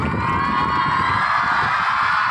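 Schoolchildren at a school cultural day clap and cheer together, a dense, continuous burst of applause and shouting that holds steady throughout, with no clear speech.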